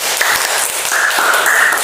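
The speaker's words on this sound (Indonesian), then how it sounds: "tepuk tangan buat kelompok 1" A classroom of students claps for the first group, a continuous close patter of many hands with a few brief voices rising over it.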